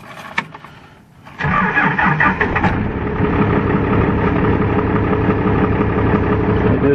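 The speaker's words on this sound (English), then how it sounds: "It just runs a little bit rough with that melted down piston in it." After a brief click and cranking, the diesel engine of a 1996 Dodge Cummins truck with a melted piston catches on a cold day and settles into a loud, uneven idle with a lumpy, rough rumble.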